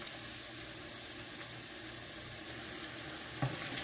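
Red onions fry in a pan while being stirred for homemade kadhi, giving a steady, fairly quiet sizzle throughout with one brief scrape near the end.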